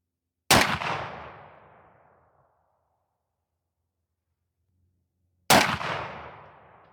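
Two loud 20 gauge Remington AccuTip 260 grain sabot slug shots fired through a rifled choke, each a sharp close blast with a long decaying echo, spaced about five seconds apart, with no voices.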